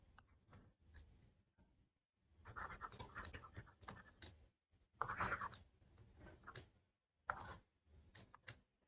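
Marker or chalk scratching across a board in short bursts of strokes with brief pauses between them, close and faint, with no talking.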